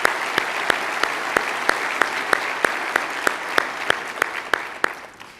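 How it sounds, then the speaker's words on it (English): An audience at a theme-park industry expo kickoff event claps for the sponsors, steady dense applause with a few sharp individual claps standing out, no talking. "Please join me in another round of applause for our sponsors"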